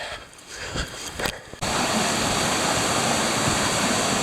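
A rushing brook in the White Mountains flows loudly and steadily nearby, its constant watery roar starting abruptly after a second of quieter outdoor rustling.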